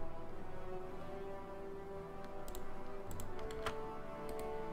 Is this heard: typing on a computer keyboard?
yes